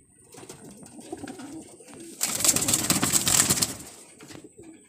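Pigeons in a loft coo softly and repeatedly, with a burst of rustling and possible wing flutter in the middle, close to the microphone.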